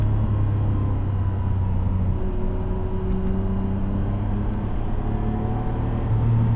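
Nissan R33 GTR engine drones steadily while driving, a continuous low rumble with rising whine tones heard from inside the car, with no voices.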